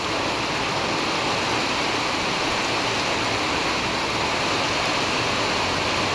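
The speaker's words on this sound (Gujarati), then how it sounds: "આ દેખો એટલો વરસાદ" Heavy cloudburst rain pours down in a dense, unbroken roar, loud and close throughout, with no voices.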